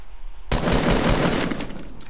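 Gunfire in the video game Fortnite bursts in after half a second of near quiet, a rapid, loud and close stream of automatic shots that keeps going to the end.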